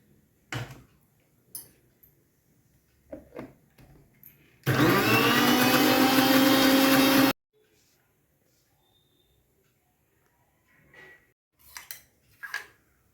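Mixer grinder whirring loudly as it grinds a lentil paste with tamarind water for multi-grain dhokla, one steady burst of about three seconds between short spoken passages and kitchen clatter.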